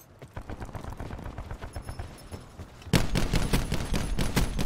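Rapid gunfire from a shooter video game, a dense rattle of shots that jumps louder partway through and keeps firing steadily.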